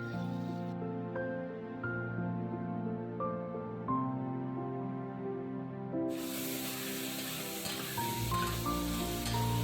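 Mutton hits hot tempering oil for mutton pulao, and a sudden broad, hissing sizzle bursts in partway through and keeps crackling steadily under continuous background music.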